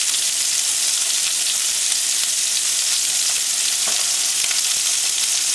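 Sockeye salmon skin frying in a pan while being pressed flat to crisp, a loud, dense, continuous sizzle close up with no talk.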